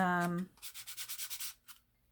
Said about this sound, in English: good old sanding block again, because that edge is so freshly cut that I just find a little bit of sandpaper really, really makes it feel more smooth